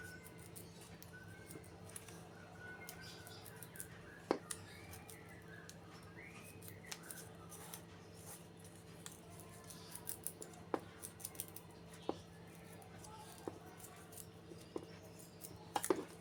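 The tip of a pair of scissors drags across styrofoam to score lines while an orchid flower is being made, giving faint scratchy strokes and scattered small clicks, close by and with no talking.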